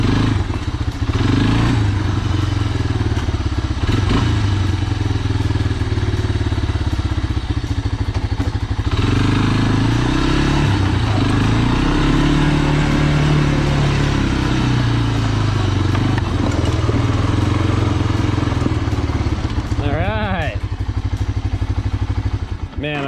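A 1985 Honda FourTrax 250 ATV, just repaired with a fixed frame and new fuel tank, runs steadily with a loud, continuous engine rumble throughout, with occasional clatter and revving swells.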